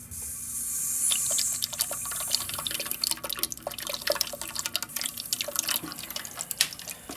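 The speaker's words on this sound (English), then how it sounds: "Crack your supply line open." Water hisses and rushes from a cracked-open supply line on a 2006 American Standard Cadet toilet, steady at first, then breaking into irregular spattering and dripping, close and fairly loud.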